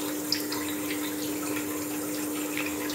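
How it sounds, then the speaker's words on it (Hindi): Boiled mint water being poured through a strainer, a steady trickling stream with faint splashes and a constant background hum, continuous for the whole stretch. "अब खोल कर देखते हैं, पानी के साथ छान लेंगे।"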